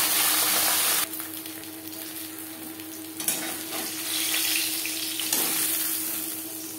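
Pieces of catla fish and a fish head sizzle and crackle in hot oil in a pan, a steady close frying hiss with a few brief bumps from handling.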